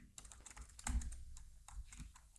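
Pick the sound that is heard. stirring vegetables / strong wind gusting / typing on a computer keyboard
typing on a computer keyboard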